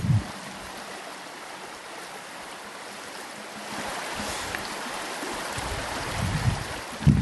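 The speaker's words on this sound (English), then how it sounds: "let's listen to that water" Salmon River riffles in New York flow steadily on a sunny day, a broad wash of rushing, splashing water close by that swells slightly toward the end, with no talking.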